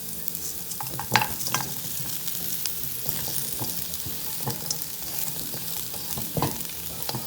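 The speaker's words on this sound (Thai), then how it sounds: "ตามด้วยหมูทอดที่เราทอดไว้แล้วนะครับ" Fried pork ribs being stir-fried in a pan, sizzling steadily with repeated scraping and stirring clinks throughout, fairly close, with no talking.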